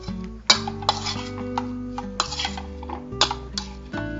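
A spoon stirs a soy sauce marinade in a bowl for Chinese cauliflower fry, making close, irregular clinks and scrapes against the bowl over soft background music.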